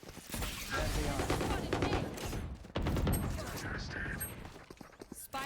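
Rapid automatic gunfire from the Valorant tactical shooter rattles almost continuously and loudly, with a brief break near the middle, alongside game effects and a player talking over it.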